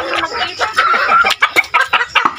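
Chickens cluck busily in a coop, a close, loud flurry of overlapping clucks and short squawks with sharp rhythmic bursts throughout.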